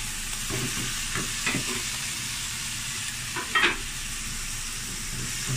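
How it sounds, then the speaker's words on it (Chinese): Bean sprouts and softened carrots stir-fried in a wok, with a steady sizzle under repeated scraping and tossing strokes of a spatula, a louder clatter near the end; no talking. "咁又再炒下佢。"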